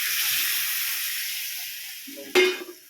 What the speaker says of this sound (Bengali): মশলা কষানো হয়ে গেছে, আমি জলটা দিয়ে দিই।